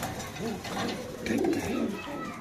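Restless pigeons coo softly in low, rolling calls, close by, at a pigeon farm, with voices talking over them.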